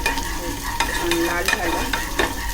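Finely chopped onion fries in hot coconut oil for a tempering, giving a steady sizzle with spatula stirs and scrapes in the pan, while a voice speaks briefly over the cooking.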